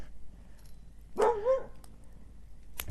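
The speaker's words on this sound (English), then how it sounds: "No, stop howling." A dog at home on a Saturday night gives a single short vocal outburst lasting about half a second, mid-loud and fairly close, rising and falling in pitch over a quiet background with no talking.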